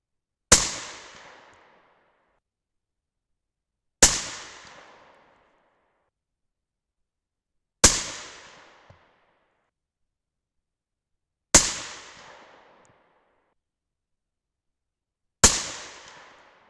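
Five sharp 6.5 Creedmoor rifle shots loaded with CCI 41 small rifle primers, evenly spaced about four seconds apart, each a loud crack with a short decaying tail and silence between.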